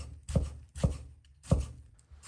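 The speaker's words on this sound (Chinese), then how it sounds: "再切成小宽条" A knife cuts thick tomato slices into small wide strips on a board, giving four distinct chopping thuds in an uneven rhythm, close and fairly crisp, with quiet pauses between strokes.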